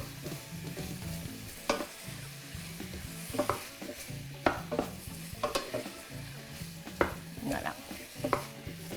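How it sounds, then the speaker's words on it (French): Bell peppers sauté in a pan, a soft steady sizzle broken by repeated clicks and scrapes of a utensil stirring against the pan at an irregular pace, close by. "je vais juste faire revenir ça. Bien mélanger le tout."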